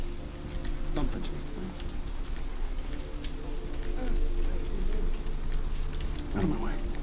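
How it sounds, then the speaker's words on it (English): Rain falls steadily in the video game Vampire: The Masquerade – Bloodlines, a constant hiss with a couple of brief chirp-like sounds over it. "Because of the rain."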